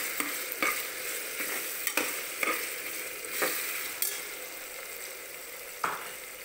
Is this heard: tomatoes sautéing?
yes